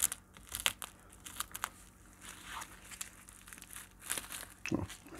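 Tape peeled from the packaging of an LED glasses kit gives crinkly crackling and tearing bursts, loudest near the start and again toward the end, close up with no talking.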